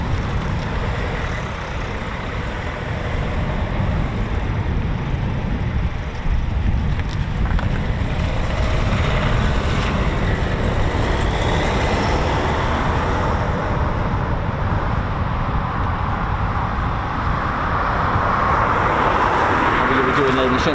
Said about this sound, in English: there's the engine start up again